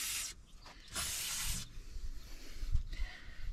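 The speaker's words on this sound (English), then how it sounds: "See how good you are at cleaning WD-40." WD-40 sprayed from an aerosol can to flush dirt out of a part during restoration of a 1955 Chevy 6100 truck: several close, loud hissing bursts of varying length with short pauses, followed by faint handling clatter.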